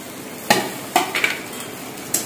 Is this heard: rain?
no